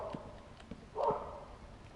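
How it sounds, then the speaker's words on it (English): A loud grumpy dog barking in a home, a few sharp barks scattered through the stretch with one stronger burst in the middle, fairly close against a quiet background. "Loud grumpy dog."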